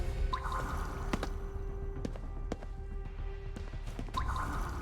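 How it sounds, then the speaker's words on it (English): Water drips and trickles in the video game Ghostwire Tokyo, with a few sharp droplet plinks standing out over a steady low ambient wash, moderately close and without any talk. "Does this game make anyone want to urinate with all these drip drops I keep letting out?"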